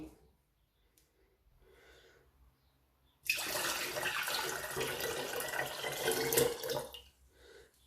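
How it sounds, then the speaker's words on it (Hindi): Water pours into a glass for tamarind and plum sharbat, a loud rushing stream lasting about four seconds between quieter moments, with no speech. "अब हमने डालना है इसके अंदर पानी"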